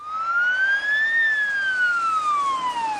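An ambulance siren wails loud and steady, a single rising then falling tone with bright harmonics, continuous and close, with no voices over it.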